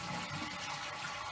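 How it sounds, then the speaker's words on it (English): A toilet flushes with the handle held up while the fill valve is shut off, a steady close rush of draining water lasting the whole moment. "I just go ahead and flush it and hold the handle up"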